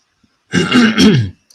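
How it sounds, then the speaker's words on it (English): One drawn-out, gravelly throat clearing, close and loud, lasting under a second against near silence. "hear me clearing my throat a whole bunch"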